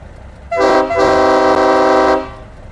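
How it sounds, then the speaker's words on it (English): A loud truck train horn sounds in American Truck Simulator, a chorded multi-tone blast starting sharply, briefly breaking, then holding steady for over a second before cutting off; no talking over it. "Do you have a train horn? I'm running the twitchy horn."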